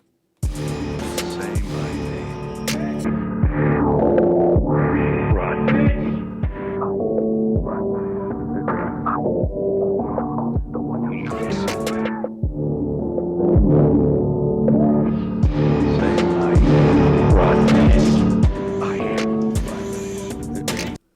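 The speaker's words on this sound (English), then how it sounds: "let's start with the filter drive. This is how it sounds on the sp404." A Roland SP-404 sampler's filter drive effect processes a steady beat, giving a thick, saturated, throbbing loop with punchy hits that continues nearly unbroken throughout.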